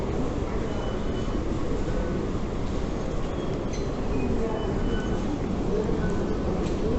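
A metro train at a station, a dense, steady rumble of rolling wheels and carriage noise filling the space, loud and continuous with faint higher squeals.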